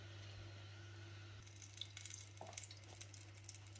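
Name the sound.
batbout breads cooking on a hot tagine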